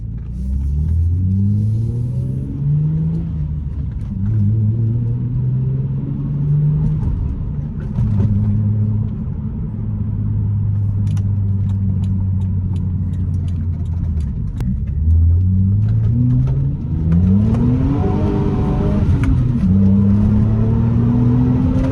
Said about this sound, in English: I think it's time to get some POV driving in.